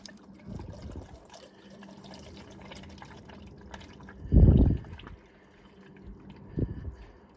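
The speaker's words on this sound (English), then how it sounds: "So we're gonna let the oil drain out" Used engine oil from a Ford Ranger 3.0 V6 drains into a drain pan, a steady faint trickle with a few louder low splashes and drips, no talking.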